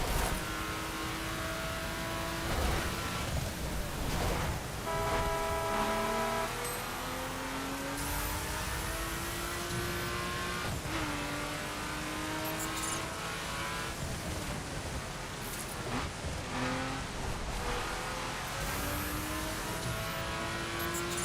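Car in the racing game The Crew driving at a steady, unhurried pace, its engine humming with shifting pitch as gears change, continuous and fairly loud with game sounds and no speech.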